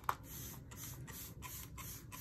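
A few quick hissing bursts of starch spray hit fabric in a sewing room, soft pulses spaced about half a second apart over a low background hum, with no talk.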